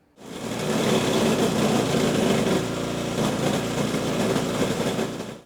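A small farm engine runs steadily at close range, a dense, even drone with a rattling mechanical texture that holds level for several seconds before cutting off abruptly.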